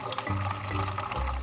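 Water pours for dogs in a steady splashing stream, close and fairly loud, with the pitch shifting slightly as the container fills.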